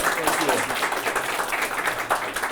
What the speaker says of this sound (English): We give a big applause because this was a very brave.